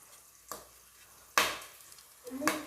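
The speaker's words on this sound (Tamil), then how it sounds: "எண்ணெய் காஞ்சிடுச்சுங்க. இப்போ நம்ம பிரியாணி இலை, பட்டை, கிராம்பு," Whole spices such as bay leaf, cinnamon, cloves and cardamom drop into hot oil for peas pulao, giving a few short sizzling bursts and stirring clatters against a quiet pan.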